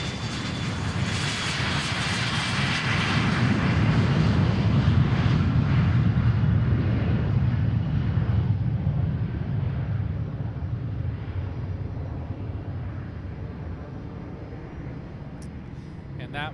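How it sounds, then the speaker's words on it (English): A NetJets private jet departs Boeing Field with a loud, sustained roar of jet engines that swells early and then slowly fades as the aircraft climbs away into the distance. "So here goes our NetJets flight"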